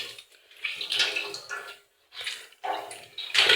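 Water running over gluten dough during rinsing, several short splashy bursts of varying strength separated by brief pauses, close and fairly loud.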